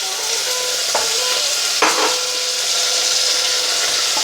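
Carrots frying in hot oil with mustard seeds for a carrot dry curry, a steady loud hiss with a couple of brief scrapes or stirs, close up and without voices.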